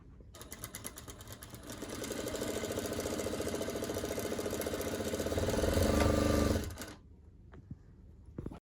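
A sewing machine runs a steady, fast stitching whir along a single fold of sharara fabric, speeding up briefly near the end before stopping abruptly, leaving a quiet tail with a few small clicks.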